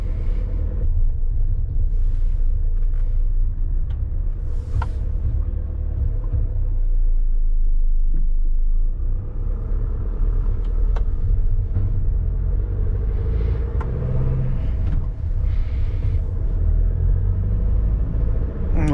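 A new Sprinter tow truck drives along with its engine running, a loud steady low rumble of motor and road noise filling the cabin, with someone talking over it at times.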